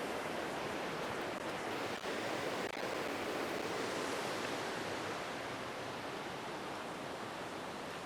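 Sipiso Piso Waterfall in Sumatra roars as a steady, dense broadband rush of falling water, constant and loud throughout with no breaks.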